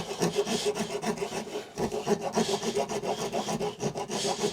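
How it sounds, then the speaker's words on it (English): A rasp is pushed across wood in repeated rhythmic strokes, each giving a coarse, scratchy rubbing sound, close and steady with no talk. "If you don't have a chisel, if you're an outdoors person, get one of these rasps."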